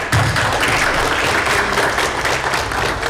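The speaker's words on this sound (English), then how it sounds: "a round of applause" A crowd applauds steadily for a few seconds at a Comic Con 2012 panel, a dense, even wash of clapping from many hands with no voices standing out.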